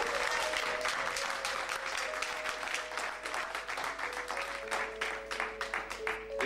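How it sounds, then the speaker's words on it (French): Church congregation applauding loudly and steadily throughout, a dense wash of clapping with a few faint sustained tones underneath. "Acclamons très très fort le nom du Seigneur."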